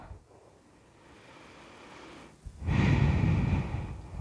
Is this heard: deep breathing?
yes